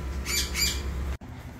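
Two captive birds squawk from inside a shipping box being prepared for transport to South Carolina, a couple of harsh, agitated calls close by, followed by a sudden clunk and quieter background noise.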